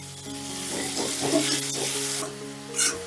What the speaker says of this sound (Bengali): এবারে গ্যাসের আঁচটা বাড়িয়ে দিয়ে আলুটা আমি লাল লাল করে ভেজে নেব